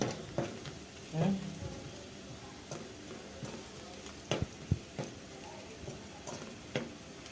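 Homemade manchurian fries in oil in a pan normally used for making bajji. A soft, steady sizzle runs throughout, broken by occasional sharp ladle clicks and taps against the pan.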